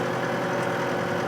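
A Massey Ferguson 675 tractor engine runs at a steady idle, a continuous dense mechanical drone with no speech, close and fairly loud for the whole stretch.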